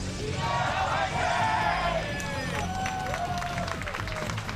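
A studio crowd at a StarCraft II GSL Season 1 finals cheers steadily throughout, a dense roar of voices with whistles and shouts rising and falling, under a caster's commentary.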